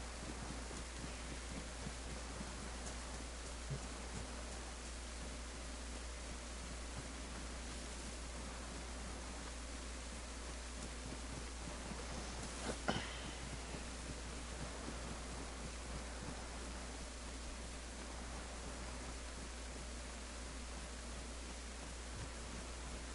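Steady, even rain hiss with a low hum beneath it, continuous and unbroken from start to finish with one brief louder patch midway and no voices.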